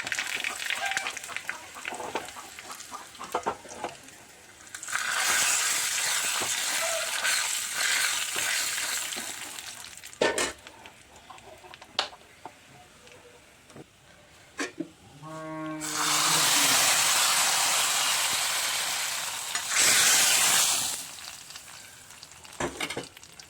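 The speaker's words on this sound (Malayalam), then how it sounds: "അപ്പോൾ എണ്ണ ചൂടായിട്ടുണ്ട് നമുക്ക് ഇതിലേക്ക് കടുക് ഇട്ട് കൊടുക്കാം കടുക് മുളക് കറിവേപ്പില" Mustard seeds, dried chili and curry leaves hit hot oil for papaya curry, bursting into a loud, close, sustained sizzle with crackling pops, fading between surges and flaring up again.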